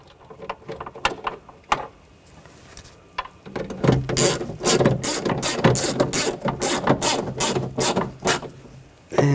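Ratchet wrench tightening nuts on a 2000-2006 BMW X5 rear window regulator, scattered clicks at first, then rapid bursts of close ratcheting strokes with metallic rasping.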